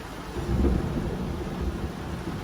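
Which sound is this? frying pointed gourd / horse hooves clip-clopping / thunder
thunder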